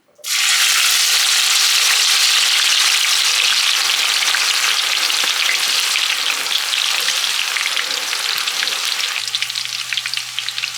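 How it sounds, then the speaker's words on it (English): Onion frying in hot oil in a pot for Senegalese jollof rice (riz gras) gives a loud, dense, continuous sizzle that starts abruptly and holds steady to the end. "You want to allow it to fry to get all that flavor out."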